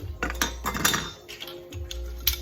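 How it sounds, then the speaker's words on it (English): A spoon clinks and scrapes against a pot while stirring a seafood boil, with repeated metallic taps at an uneven pace, close and fairly quiet. "Keep stirring it, don't let it stick."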